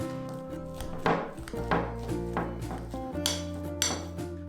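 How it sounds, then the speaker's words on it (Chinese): Hot boiled potatoes being mashed by hand with a kitchen tool, giving a series of close, irregular thuds and soft knocks against the bowl over a steady background with a faint tonal hum. "煮熟的土豆趁热用一个顺手的工具捣成土豆泥"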